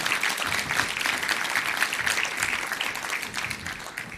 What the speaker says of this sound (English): a big round of applause to Odur